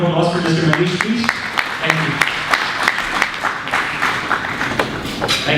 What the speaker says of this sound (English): Can we have a round of applause for Mr. Manish, please?